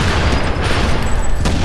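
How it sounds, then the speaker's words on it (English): A machine gun turret firing in a video game, a loud, continuous booming roar of rapid shots blending into one heavy, unbroken barrage. "Seriously, I'm using a machine gun turret."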